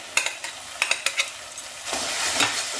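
A spoon scrapes and taps around a pan as mashed roasted eggplant goes into a soft tomato-onion masala for baingan bharta, several sharp clinks followed by a louder, steady sizzle.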